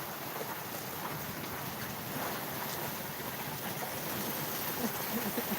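Steady rain with water pouring from roof gutters and spouts, a dense continuous rushing and splashing close by, broad and unbroken with no talk.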